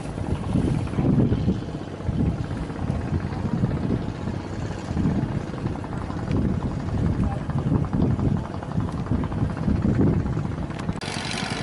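A fishing boat engine runs close by at sea during clam raking, a dense low drone mixed with heavy wind rumble, with someone talking over it.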